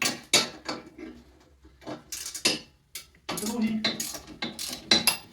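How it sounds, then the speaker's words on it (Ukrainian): A ratchet wrench with a 13 mm socket loosens bolts while fitting a toilet installation frame, giving bursts of close, rapid clicking in short uneven runs with pauses between. "Ключик у нас головка на 13, тріщітка, вам буде зручніше працювати."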